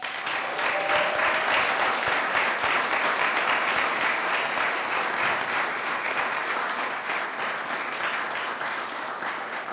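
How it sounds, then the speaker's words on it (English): A room of attendees at a board of directors meeting applauds an award-winning graduate, a full, even wash of clapping that holds steady for about ten seconds before easing slightly at the end. "Let's give another round of applause, please, for our award winner."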